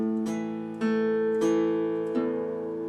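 Guitar playing the ending of a song on the low E, four plucked notes ringing in a slow even rhythm, each attack decaying into a sustained low tone, clear and unaccompanied.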